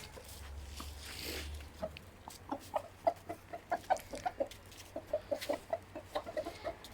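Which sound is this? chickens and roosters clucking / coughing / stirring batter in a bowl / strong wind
chickens and roosters clucking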